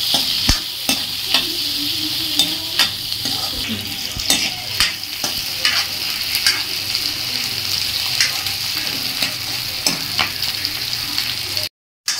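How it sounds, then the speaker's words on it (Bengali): Chopped capsicum and onion fry in a pan with a steady sizzle, while a spatula scrapes and taps the pan at an irregular rhythm. The sound is close and moderately loud, with no talking. "এই দুটোকে ভালো করে ভেজে নিতে হবে।"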